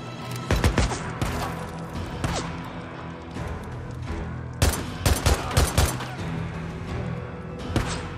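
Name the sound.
gunshots in the video game Days Gone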